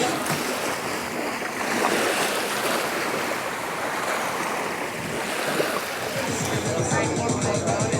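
Surf washes continuously onto the volcanic-sand shore at Shipwreck Beach Club in St Kitts, a loud, broad rush of breaking waves mixed with wind buffeting the microphone, with someone speaking over it.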